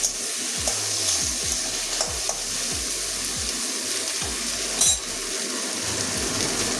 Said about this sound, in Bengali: এবারে ভেন্ডির কাঁচা গন্ধ যাওয়া পর্যন্ত ভেজে নেবো।